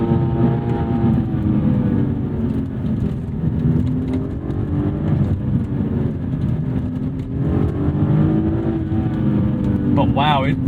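A 2009 BMW 128i E82 hums steadily along a bumpy road, with engine and tyre drone rising and falling slightly from inside the cabin while someone talks over it throughout.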